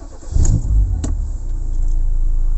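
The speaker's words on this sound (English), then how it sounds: "Start ko yung engine." A Ford car engine starting: a short cranking burst followed by the engine catching and settling into a steady, close idle.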